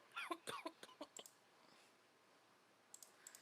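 A few small, dainty coughs and throat clicks come close together at the start, quiet and close, then a long hush before two more tiny clicks near the end.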